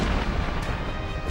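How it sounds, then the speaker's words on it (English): A torpedo strikes the battleship Royal Oak with a dense, booming explosion that fills the short stretch with sustained, heavy rumble. "There was a ginormous explosion."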